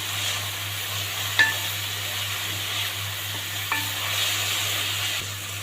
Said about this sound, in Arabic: بعدين هنضيف طماطمايه صغيره مقطعه كده نقلبها